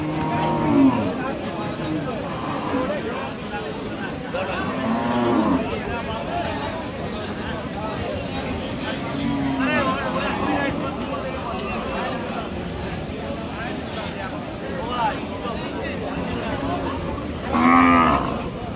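Cattle moo several times at a busy cattle market, some calls nearby and loud, some farther off, amid steady crowd chatter and someone talking.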